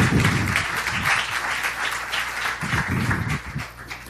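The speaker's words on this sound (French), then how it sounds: "Vous pouvez l'applaudir s'il vous plaît." Audience applause fills a room at a startup event in Nantes as a OneWeb CEO is welcomed, steady dense clapping throughout with a few stronger bursts, fairly loud and close.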